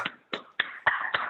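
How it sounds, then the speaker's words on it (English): A handful of sharp, evenly spaced claps come through a video call after participants unmute, sparse and dry, about five in a row rather than a full crowd. "I think we should give him a round of applause."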